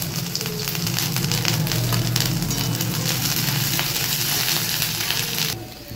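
Cumin seeds, chopped garlic and grated ginger frying in hot oil, a loud, dense, continuous sizzle heard up close that drops off sharply near the end.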